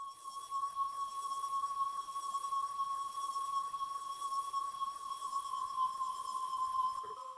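An ambient synth pad: a steady sustained tone with faint airy overtones, holding evenly for several seconds at a constant moderate level before cutting off near the end.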